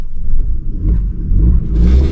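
A manual car pulling away uphill in first gear, its engine rumbling low and steady, then rising a little as the accelerator is pressed, close by with no talk.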